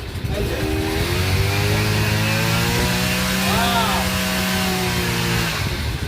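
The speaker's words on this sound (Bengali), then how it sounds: "ওকে, মেশিনটি স্টার্ট হয়ে গেল, এখন আমরা মেশিনটি চালাবো।" A Cub Cadet side-pack brush cutter engine runs loud and close, its two-stroke whine rising and wavering in pitch as it is throttled up, with a voice faintly beneath.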